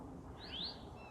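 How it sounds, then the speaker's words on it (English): A Florida scrub jay in the scrub of Ocala National Forest gives one brief rising call, fairly faint against a soft outdoor background hiss. "probably half a dozen scrub jays right in this vicinity"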